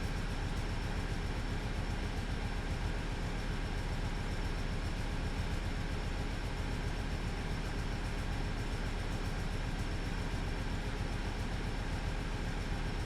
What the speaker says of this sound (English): Nice, it's really working, this train.